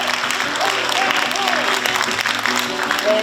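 A political rally crowd gives a burst of warm applause at a party leader's listening-tour event, steady dense clapping filling the hall throughout, with some voices mixed in underneath.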